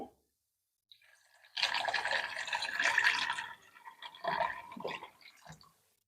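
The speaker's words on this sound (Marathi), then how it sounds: "पाणी ॲड करते याच्यामध्ये" Water is poured into a pan to cook pasta, a close, steady splashing stream lasting a few seconds, followed by a few shorter splashes and drips before it stops.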